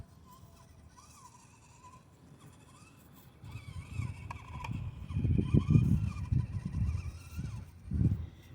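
A 1/24 scale R/C rock crawler truck grinds over rocks, its small electric motor whining in uneven bursts as it climbs, with scraping and knocking of tires on stone, close and moderately loud.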